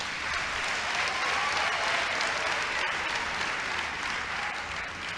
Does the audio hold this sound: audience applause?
yes